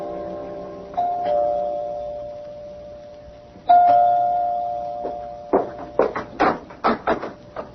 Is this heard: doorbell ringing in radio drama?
yes